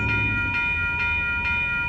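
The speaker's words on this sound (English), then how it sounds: "Alright folks, here comes Amtrak Capital Corridor Train 527" A 2012 Amtrak Capitol Corridor passenger train led by an F59PHI locomotive passes at 98th Ave in Oakland, California, with a steady loud rumble and strong sustained horn tones repeating in pulses, no talk.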